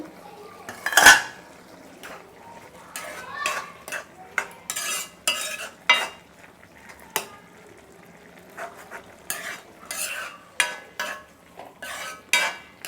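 Metal utensil scraping and clinking against a cooking pot of boiling squid curry gravy in irregular bursts, close up, with brief pauses between strokes and no talking.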